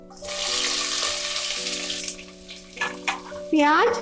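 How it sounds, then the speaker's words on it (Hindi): Onion frying in a pan for laal maas after whole spices, a bright crackling sizzle that swells then eases, with a few stirring scrapes and a brief clatter near the end; a sustained tonal hum runs underneath. "प्याज को अच्छी तरह से भूनकर गोल्डन ब्राउन करके"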